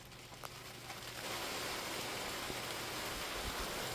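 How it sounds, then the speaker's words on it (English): A sudden rainstorm comes in on an outdoor building site, its soft hiss swelling after about a second into a steady, dense wash of rainfall. "a freak rainstorm decided that I was done working for the day."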